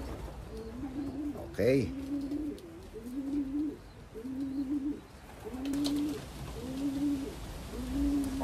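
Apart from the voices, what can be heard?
pigeons cooing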